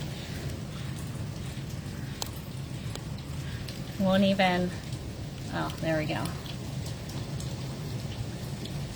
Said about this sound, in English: all that rain just hitting.